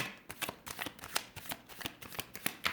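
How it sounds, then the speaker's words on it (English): Tarot cards being shuffled in quick, repeated riffling bursts, close and fairly quiet, with no talking. "Oh, that needs more shuffling."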